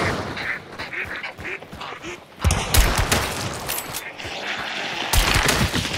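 Rapid bursts of gunfire in the video game Hunt: Showdown crack out in sharp clusters, the loudest volleys arriving in the second half over a busy background with a faint voice.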